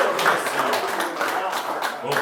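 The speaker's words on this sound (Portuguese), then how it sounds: "Uma salva de palmas para o Senhor Jesus Cristo" A church congregation at a Lord's Supper service applauds in a steady, dense wash of clapping that continues throughout while a voice speaks over it.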